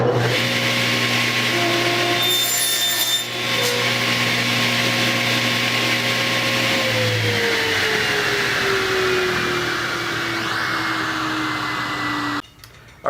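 A saw with its fence set to 19 inches crosscuts 3/4 inch wooden stock to length for a beehive inner cover, a steady motor whine that drops in pitch as the blade loads through the wood, then winds down near the end.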